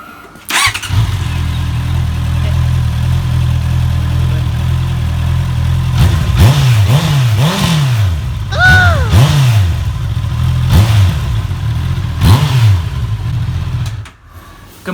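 A motorcycle engine idles steadily just after the bike was lifted upright from a fall, with a low continuous rumble and several short revving bursts in the middle and near the end before cutting off.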